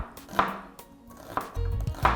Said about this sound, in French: on va rapidement découper l'oignon en lamelles